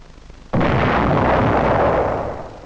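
A gun fires a single shell during a muzzle velocity test with photoelectric timing cells along the barrel line: one sudden, loud, close blast that rolls on in a broad roar and slowly fades, with no voices.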